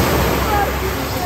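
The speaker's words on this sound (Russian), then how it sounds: "Здесь такие волны, слушайте." Sea waves surging and breaking on the beach near Sveti Stefan island in Montenegro, a steady broad wash of surf with no clear separate crashes.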